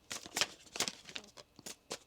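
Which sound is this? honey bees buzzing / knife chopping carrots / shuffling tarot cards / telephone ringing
shuffling tarot cards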